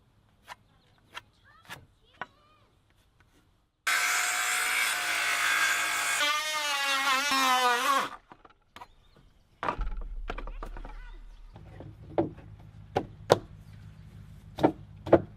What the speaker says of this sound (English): This is how I like to go about cutting the notches in these boards without taking any measurements.